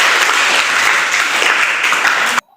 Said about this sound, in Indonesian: Tepuk tangan dulu, Bang.